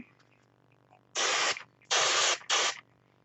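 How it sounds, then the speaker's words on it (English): Three sharp bursts of wig spray hiss close up onto a piece of paper against quiet background, the first and second longer, the last briefer, with brief pauses between. "if I take this piece of paper and I spray on it"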